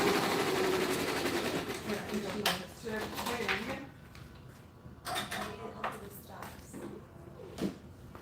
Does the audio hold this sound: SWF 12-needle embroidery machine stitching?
yes